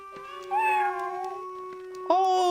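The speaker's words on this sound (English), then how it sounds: "Oh, kitty cat!" A cat meows in a long, drawn-out wavering call, then a second rising meow, loud and close against a faint steady tone.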